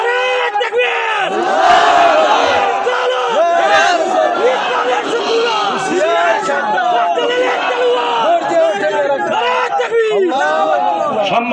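A large crowd at a Bangladeshi religious gathering roars a loud, sustained chant in unison after a Takbir call, many voices overlapping in rising and falling waves throughout.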